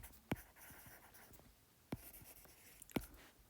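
Pen or pencil writing by hand while working through a physics problem on waves, three distinct firm taps and faint scratching strokes between them, close and quiet.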